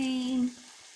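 Shakarpara dough dropping into hot ghee with a bright, steady sizzle, close and loud for half a second before dying down to a faint crackle.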